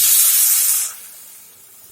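Water poured into a hot pan of fried onion, cumin, chilli and turmeric powder sets off a loud burst of sizzling hiss that fades after about a second into a quieter simmer.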